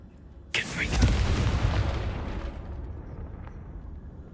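A Confringo blasting spell explodes in Hogwarts Legacy with one sudden loud boom. A rumbling roar follows and fades out over a few seconds. A voice is faintly present.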